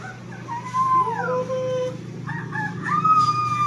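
A rooster crows nearby, its long wavering call rising and falling, followed by another crow with clucking in the background.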